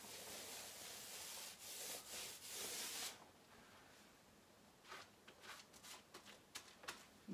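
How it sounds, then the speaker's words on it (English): A paint roller spreads Colourtrend paint across a wall in a series of soft rubbing, sticky strokes. The sound is loud and continuous at first, then turns into shorter, fainter passes close by, with no one talking. "And again, I'm using this roller here."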